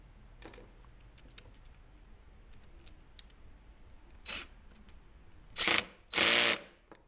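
A cordless drill with its clutch turned down drives screws while repairing a Corona 3354 weeder, giving a few short whirring bursts, the last two louder and longer, close up after a quiet stretch of faint clicks.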